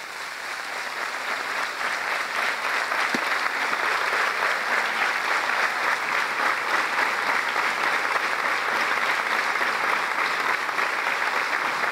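Sustained applause from an audience, loud and steady for the entire stretch with no pauses.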